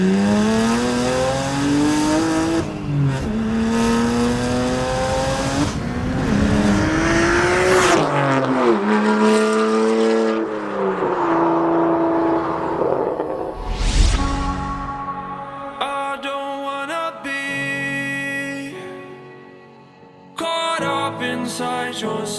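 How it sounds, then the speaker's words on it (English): Straight-piped BMW N54 engine in a 450 hp BMW 135i, revving hard in repeated rising sweeps with sharp throttle blips and pops, loud and close, no talking. "do you guys want to hear a straight piped N54?"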